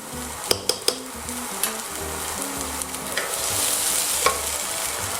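Shallots browning in a pan give a steady bright sizzle, with several sharp clicks and taps of a utensil against the pan early on and a few more scattered later, close and without any voices.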